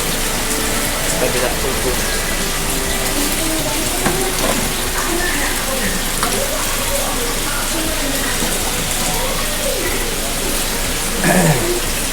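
Water pours steadily into guppy tanks at a fish farm, a continuous rushing splash that stays even and close throughout, with brief voices over it.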